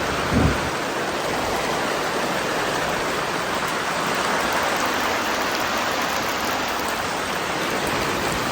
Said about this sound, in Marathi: मंडळी अचानक पाऊस येतो